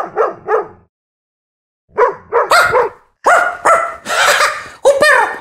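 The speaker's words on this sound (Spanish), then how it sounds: "¿Escuchaste que es un perro?" A dog barks in a quiet setting: a pair of yips, a pause, then a run of loud, close barks in uneven bursts.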